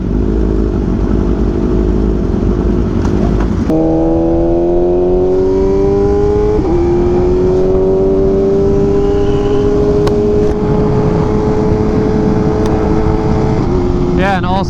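A superbike engine revs loudly and close by, a rough idle rising into a sustained rev with pitch shifts and a brief stutter before settling and winding down.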